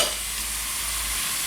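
A tablespoon of garlic is dumped into a hot pan and stirred, giving a steady, close hissing sizzle that holds evenly throughout with no talking.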